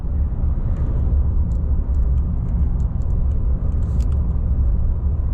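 A 2025 Ram 3500 Big Horn pickup is heard from inside the cab as it cruises and accelerates, giving a steady low engine and road rumble, loud and close, with faint small clicks and no speech.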